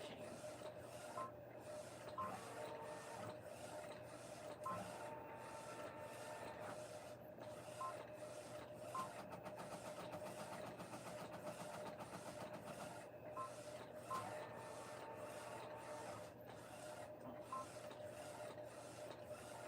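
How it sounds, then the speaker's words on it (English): An embroidery machine runs steadily throughout, giving a continuous mechanical whir with a rapid repetitive stitching rattle and small periodic clicks, at moderate level and free of talk. "It's about to get loud because of the embroidery machine."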